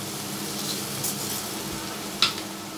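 Prawn masala sizzles softly in a pan as it is sautéed, a steady low frying hiss with light stirring scrapes and one brief clink near the end.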